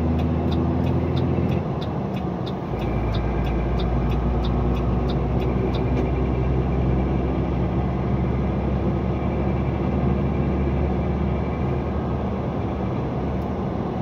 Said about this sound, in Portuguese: carros saindo aí carregados para suas capitais, seus estados de origem.